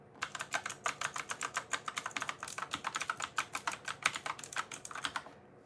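Fast, steady clicking of keys on a computer keyboard, dozens of crisp taps in quick rhythm, close by and alone.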